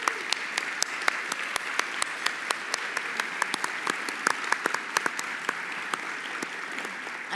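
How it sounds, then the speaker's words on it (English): A seated audience at a philanthropy awards gathering gives the judges a steady round of applause, a moderately distant, even wash of clapping with sharp individual claps popping out throughout. "give them a warm round of applause to our judges"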